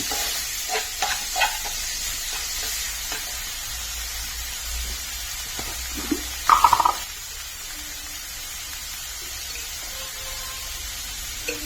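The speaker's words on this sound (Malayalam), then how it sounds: "ഉള്ളി തക്കാളി പച്ചമുളക് എല്ലാം ചെറുതായിട്ട് അരിഞ്ഞതും ചേർത്ത് നല്ലോണം ഒന്ന് വഴറ്റിയെടുക്കാം." Chopped onion, tomato and green chilli sauté in a pan with a low, steady sizzle, broken by a few soft scrapes of stirring and one brief louder clatter.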